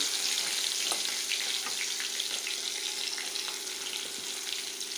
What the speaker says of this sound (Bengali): আমি আগে পিসগুলোকে ভেজে নিই যে কয়টা পিস আছে